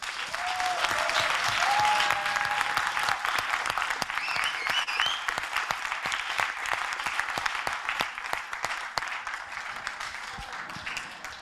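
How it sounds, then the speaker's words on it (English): A room full of people applauds the teams at the close of an afternoon session of final Master M2 thesis defenses, with steady dense clapping throughout, swelling slightly early on, while a faint voice and a few whistles poke through. "let's a big round of applause to them as well"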